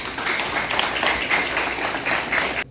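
An audience applauds the new departmental director for the South at her installation ceremony, dense sustained clapping at close range that stops abruptly near the end.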